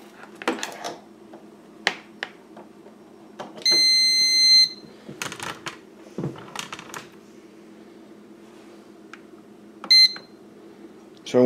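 A bread maker control panel beeping as settings are chosen, with a long electronic beep, a shorter one later and another at the very end, heard among quiet kitchen rustling and handling noises.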